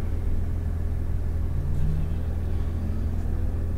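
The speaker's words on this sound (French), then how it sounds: "On va attendre que 2 voitures passent." Cars, among them a Porsche 992 GT3 RS, pass on the Fontenay-le-Comte race circuit, heard as a continuous low engine rumble with a slight rise in revving midway.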